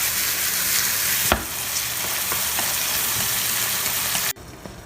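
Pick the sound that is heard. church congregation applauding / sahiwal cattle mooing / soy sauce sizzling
soy sauce sizzling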